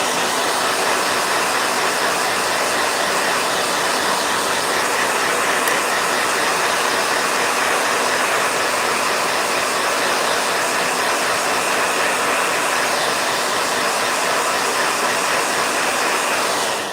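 A blow dryer runs steadily at close range, a loud, continuous broadband whoosh with no breaks and no voices.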